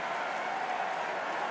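Stadium crowd at a Commonwealth Games rugby sevens match in Birmingham, Kenya against Australia, roars in a steady, dense wash of cheering and clapping that holds for the full moment without a break.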